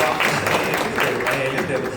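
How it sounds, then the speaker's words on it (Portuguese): An audience applauds a band with steady, dense clapping throughout, mixed with crowd noise and a voice speaking over it. "Palmas pra essa banda."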